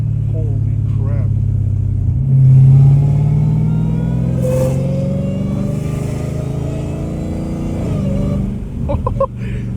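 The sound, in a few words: catless straight-piped Dodge Challenger Hellcat Redeye whining in sports mode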